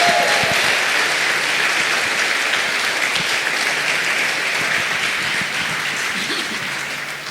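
Congregation applauding during a Spanish-language church worship service, a steady dense wash of clapping that holds for the whole stretch and eases slightly at the end.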